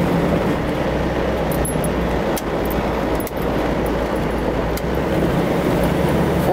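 A Ford Pinto station wagon cruises along a road at steady speed, heard from inside as a constant loud engine drone mixed with road and wind roar, with a few faint rattles.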